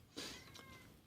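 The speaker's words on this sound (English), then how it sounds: "Apologize if you can hear a loud cat in the background." A loud house cat meows insistently for food indoors, one drawn-out call followed by a shorter second cry, close to the microphone and alone without speech.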